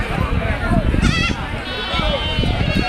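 Goats and kids bleating at the Kunta goat market, several nasal wavering calls close by amid crowd noise and someone talking.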